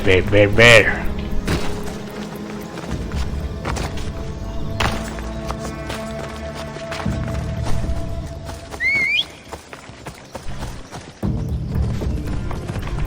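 A horse in the video game Assassin's Creed Odyssey whinnies at the start, followed by hoof clip-clops and thuds amid game sounds and background music, with someone talking over it.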